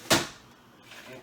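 A rice cooker lid shuts with one short, fairly loud clunk near the start, followed by quiet room noise and a faint rustle at the end.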